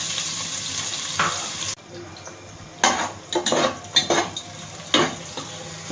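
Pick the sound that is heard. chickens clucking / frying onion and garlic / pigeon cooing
frying onion and garlic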